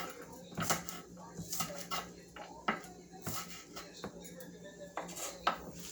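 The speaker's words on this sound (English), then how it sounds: "Medium heat, high, add the poblano and the scallion whites." Poblano peppers and scallion whites go into a pan over medium-high heat, giving clinks and clatters of utensils on cookware with faint sizzling between them, close by and fairly quiet.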